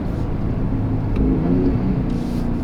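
Gen 3 Ford Raptor with a 3.5L engine and AWE Switch Path exhaust, downshifting: a steady, deep exhaust rumble that stays loud and close throughout, with a brief swell in the middle.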